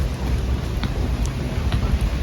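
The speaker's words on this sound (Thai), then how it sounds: "โอ้ฝนตก" Heavy rain pours outdoors as a dense, steady roar with a deep low rumble underneath and scattered louder drops standing out, close and constant throughout.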